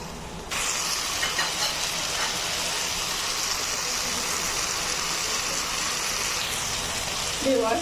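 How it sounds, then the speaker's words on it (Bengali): Chopped carrots and other chicken burrito fillings fry together in a pan, giving a steady, close hiss that continues evenly throughout with a few faint clinks near the end. "এখন আমি সবগুলো উপকরণ একসাথে দুই থেকে তিন মিনিট একটু ভেজে নেব"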